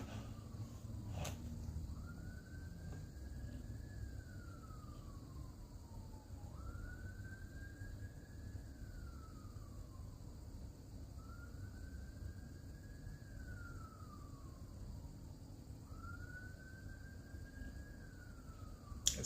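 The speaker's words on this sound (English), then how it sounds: "And there's a siren." A far-off emergency vehicle siren wails in slow rising and falling cycles, faint and steady against quiet background hum, repeating four times without speech.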